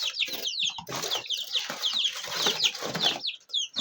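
Young chicks peeping in rapid, high repeated chirps from several birds at once, close and continuous, with some scuffling in their box.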